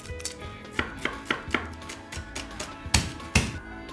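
A knife chopping shallots and garlic finely on a cutting board in a kitchen, about a dozen crisp close taps in quick bursts, the last few louder, with no talk.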